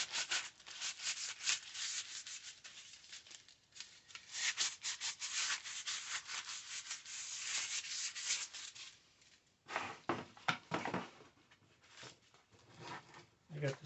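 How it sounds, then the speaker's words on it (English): Light hand sanding of the headlight trim from a 1973 Jeep Commando before painting, a close, soft rhythmic rasp of strokes running in bursts with short pauses, and a quieter stretch between the bursts. "Just a light sand so the paint will stick to it."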